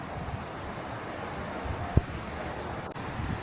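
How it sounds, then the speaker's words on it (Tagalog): Strong southwest monsoon wind at a beach front campsite on a cove, gusting continuously into the microphone as a broad roar, with surf faintly beneath and a single brief thump partway through. "Yung hangin ngayon, grabe ang lakas."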